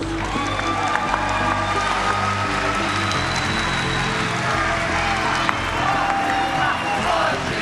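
An audience applauds in front of the arena stage at Brazil Game Show, a gaming convention: dense, steady clapping and crowd noise fills the whole stretch at close range and stays loud and continuous, with a murmur of voices mixed in.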